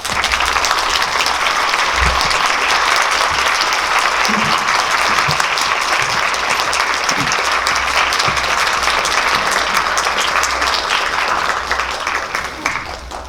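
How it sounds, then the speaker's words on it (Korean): An audience in a cinema auditorium at a film talk event claps continuously to welcome the guests, a thick, sustained wash of applause that eases off slightly near the end. "박수로 환영해 주세요."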